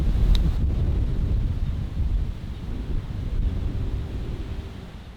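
Cold wind buffets the microphone on an open safari game-drive vehicle, a loud, continuous low rumble with gusty swells and no voices.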